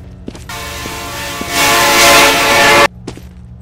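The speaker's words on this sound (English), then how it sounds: "Sound like the Razor Train from Half-Life," A train in the Roblox game Evade rumbles in loud and close, its horn swelling into a harsh sustained blare before cutting off abruptly, with no talking.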